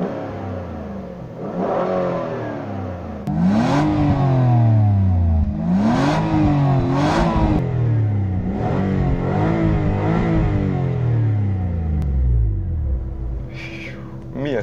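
A 2006 Hyundai Tucson 2.7 V6 with automatic transmission idles and then revs repeatedly, rising and falling sweeps in several blips, close and clear with a smooth tone and no talking.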